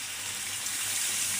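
Broth is poured over tilapia fish curry with drumsticks in a pan, a steady, close, continuous splashing pour lasting just over a second.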